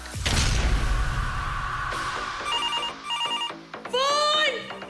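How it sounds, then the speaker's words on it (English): A telephone bell rings in repeated bursts, loud and close, over a busy indoor scene with crashing and thumping noises and people talking throughout. "The phone's ringing"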